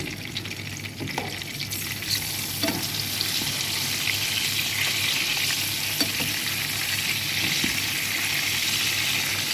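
Meat frying slowly in a pan over a low gas flame, a steady broadband sizzle with occasional soft stirring scrapes, close and continuous without talk.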